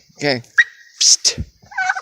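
A pet turkey gobbles indoors in a house, a few short throaty calls between a man's brief spoken words and a hiss.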